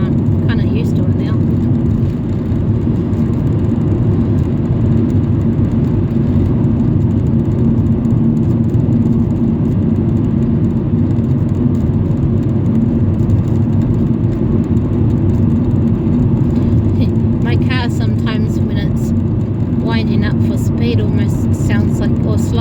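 A new car cruises along with a steady, loud droning road and engine roar resembling a distant airplane, continuous throughout with a voice speaking over it.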